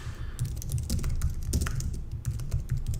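A URL being typed on a computer keyboard makes a quick, close clatter of keystrokes in a steady rhythm, running alone without talk.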